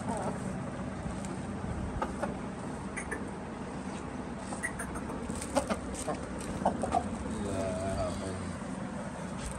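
Aseel roosters and chickens on a farm cluck and call intermittently at a moderate distance beneath steady background noise, with a few sharper calls standing out midway.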